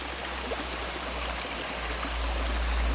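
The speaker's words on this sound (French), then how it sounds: "c'est qu'il y a une cascade juste en face." A forest waterfall and stream pour continuously beside a road bridge, a dense, even rushing hiss that holds steady and swells slightly toward the end, with a low rumble underneath and no voices.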